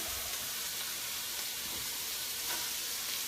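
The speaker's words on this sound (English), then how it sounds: "look at that bacon cooking up. Let's add in the onion." Bacon and onion fry in a pan with a dense, even, steady sizzle, close and continuous, with faint stirring underneath.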